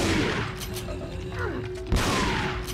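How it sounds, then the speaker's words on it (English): A shotgun fires in the Resident Evil 4 video game, a sharp booming blast near the end set against busy game noise and a steady tone. "I gotta use the shotgun."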